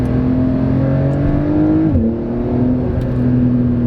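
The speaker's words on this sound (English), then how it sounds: "What a good sounding straight six this is." A 2020 Porsche 911 of the 992 generation with a straight-six engine revs loud and close, a steady droning note that dips briefly as revs shift, then holds again.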